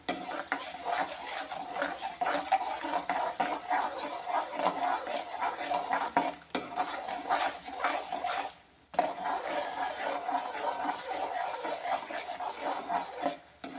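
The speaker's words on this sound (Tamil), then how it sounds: "அதிலே மாவை கொட்டி கிண்டிக்கலாம்" Continuous scraping and stirring of a spoon against a pan as flour is stirred into melted jaggery for athirasam, steady and close, with a faint sizzle underneath and no talking.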